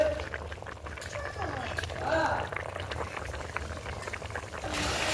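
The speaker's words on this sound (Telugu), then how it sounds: "ఈ చేపల పులుసు ఉడుకుతుంది ఫ్రెండ్స్" Fish curry simmering in a pot with coriander leaves added, a soft, continuous bubbling heard close up at low volume.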